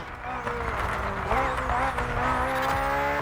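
A BMW Z car racing in The Crew Motorfest, engine droning steadily with rising and falling revs and tire noise throughout, while a voice talks over it.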